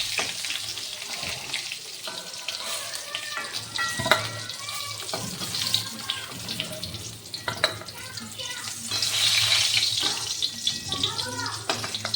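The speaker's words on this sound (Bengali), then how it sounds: "রসুনগুলো সবগুলো দিয়ে একটু লাল করে ভেজে নেব" Garlic cloves fry in oil in a pan until reddish, a close, continuous crackling sizzle with irregular clatters and scraping from stirring.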